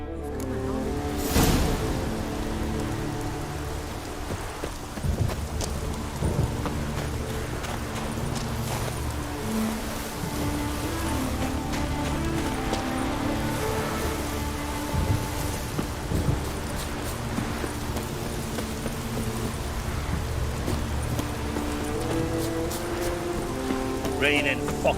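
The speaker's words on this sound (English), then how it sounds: "Raining fucking buckets." Steady heavy rain pours down in a constant hiss in the video game The Witcher 3: Wild Hunt, with occasional hoof-like clopping and some voices in the background.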